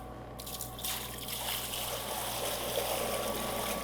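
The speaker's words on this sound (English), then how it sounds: "And now I'm going to take this water and put it right in this bowl." Water pours steadily into a mixing bowl while sourdough dough is being started, a continuous close trickle and splash with no talking.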